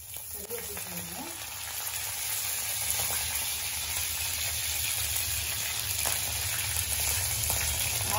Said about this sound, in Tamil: கடுகு புரிஞ்ச உடனே கறியை போட்டுக்கணும்